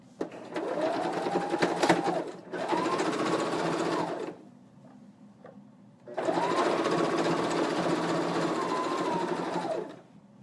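A sewing machine stitches fabric pieces placed right sides together, running in two steady bursts of close, even whirring stitches separated by a short pause, with no talk.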